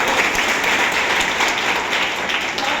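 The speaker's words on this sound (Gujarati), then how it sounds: "એકવાર જોરદાર તાળીઓ" A crowd claps in dense, steady applause, loud and continuous from start to finish.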